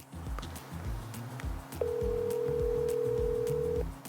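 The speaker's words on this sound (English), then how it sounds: "I'm going to call a customer." A telephone ringing while a call to a customer is placed, one steady tone lasting about two seconds over a low rumbling background with scattered clicks.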